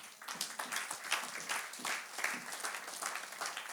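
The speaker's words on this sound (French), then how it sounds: "Acclamons le Seigneur." A church congregation claps in a steady, lively rhythm during a worship service, with many hands joining in a continuous round of applause.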